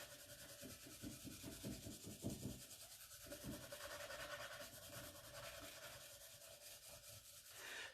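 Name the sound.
finishing pad rubbing over a transfer on a wooden box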